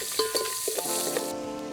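Chopped onion sizzles steadily in hot tempering oil during village cooking of dal bati, a continuous close hiss and crackle with a few small pops and no voices.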